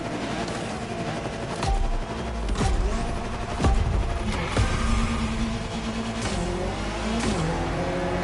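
Classic Alpine sports cars rev their engines up close, loud throttle blips and sharp popping bursts repeating over about eight seconds against a busy outdoor motor-show background.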